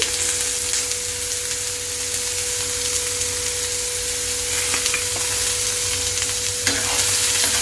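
Vegetables seasoned with turmeric and salt are stirred in a pan of hot oil, giving a loud, even sizzle with occasional scraping of the spatula across the pan.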